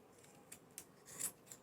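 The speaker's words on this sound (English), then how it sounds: "I will trim 1/4 inches all around with the zigzag scissor." Zigzag scissors snip through fabric zipper tabs while a purse is being sewn. Several short, crisp cuts come at a steady rhythm, close by and faint, with no talking.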